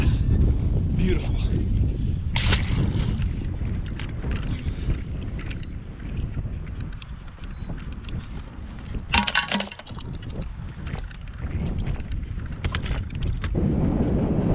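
Wind sweeps across Lake Lanier while fishing from a boat, buffeting the microphone with a loud, continuous low rumble, punctuated by a few brief clinks and knocks.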